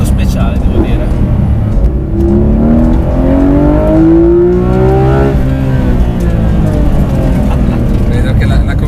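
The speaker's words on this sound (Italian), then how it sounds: "tira fino a 9000 con questo sound che ti sfonda i timpani" A 2019 Porsche 991 GT3 RS engine revs hard toward 9000 rpm, a loud close roar whose pitch climbs, peaks and falls back across several seconds, continuous and dominant over road noise.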